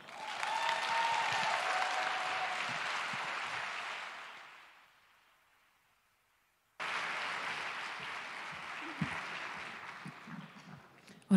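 A live concert audience in Rome applauds loudly, sustained clapping that fades out to silence, then a second burst of applause resumes.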